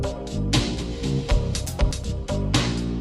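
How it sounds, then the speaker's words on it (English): Chopped and screwed instrumental made of cut-up, reversed and pitch-transposed clips with added effects, loud and continuous with abrupt splices, heavy low-end hits and stuttering edits. "we've done what's known as chopping and screwing, where we chop up the instrumental, we reverse some clips, we transpose some clips, add some effects."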